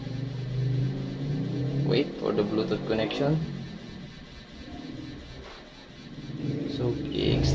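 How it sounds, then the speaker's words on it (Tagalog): Motorcycle engines rev and rumble outside as they pass by, their drone rising and fading beneath a person speaking nearby. "Medyo maingay sa labas yung mga motorsiklo."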